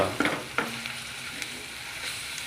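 Sliced onions with masala spices and salt fry for chicken biryani, giving a close sizzling hiss broken by a few sharp stirring scrapes and clinks at the start, then settling into a quieter steady crackle.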